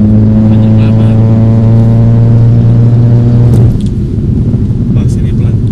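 Mercedes C250 W204 engine revving hard while accelerating on a test drive, a loud steady rising drone that drops off after about four seconds into road rumble, with people talking inside the car.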